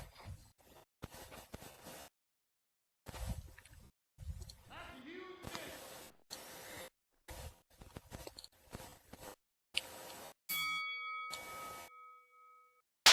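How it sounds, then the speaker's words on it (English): A bell rings to start a wrestling match in the Second Life video game: one clear ding that rings on near the end, after scattered bursts of voices and clattering sounds. "And Derek rings the bell."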